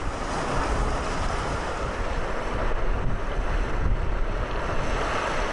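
A Land Rover wades through water at speed, pushing a bow wave, with a continuous loud churning rush of water mixed with heavy wind buffeting across the whole span.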